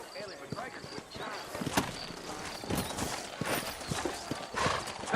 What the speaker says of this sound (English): You ain't gonna find sturdier horses than these in all of New Ulster.